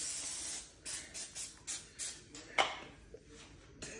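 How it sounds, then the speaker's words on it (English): Several short hissing bursts from a can of spray butter, sprayed onto pizza in quick pulses close by, with a brief pause between each spritz. "I probably should spray some of this butter on"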